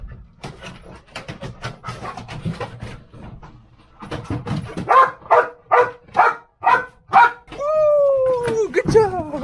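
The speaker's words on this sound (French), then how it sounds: "le but pour le chien c'est de me trouver et il doit aboyer" A Taiwanese fire brigade search and rescue dog barks repeatedly during a search drill, first amid cheering and praise from handlers, then in a loud, evenly spaced series of sharp barks ending in a rising whine.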